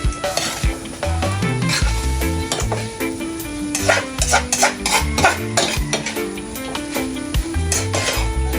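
A spoon stirs food in a frying pan after a little soy sauce is added, scraping and clinking steadily over a constant sizzle, close and fairly loud throughout.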